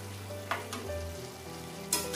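Ginger paste, turmeric, chilli powder, coriander and cumin powders and slit green chillies sizzle steadily in hot oil for a Bengali lau chingri prawn curry, with a few louder crackles and stirring scrapes, close and without talk.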